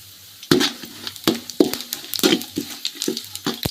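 Whole spices such as cinnamon crackle and sizzle in hot oil in a pan for tempering, with sharp pops and stirring scrapes coming in irregular bursts, close by.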